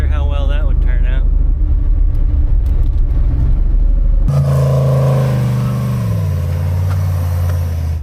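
An off-road vehicle climbs a snowy trail in two-wheel drive. A loud, steady engine drone runs throughout, shifting to a deeper, rising rumble partway through as it strains uphill.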